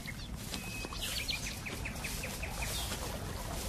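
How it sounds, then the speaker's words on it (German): Nightingales sing softly in the evening, a faint series of quick, high chirps and trills rising over a steady background hiss, with no voices present. "Ja, Nachtigallen."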